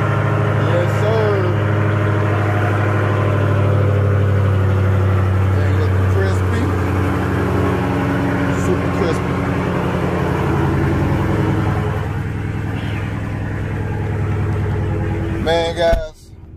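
A car engine idles steadily after being started with the red key, producing a loud, continuous low rumble close by that holds for about sixteen seconds before cutting off abruptly near the end.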